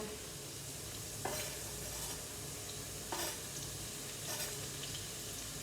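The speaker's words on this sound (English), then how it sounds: "I'm going to stir it up" Onion and garlic sizzle in oil in a pan for an Italian sauce, a steady soft frying hiss with three brief scraping bursts as a spoon stirs them, fairly quiet and without talk.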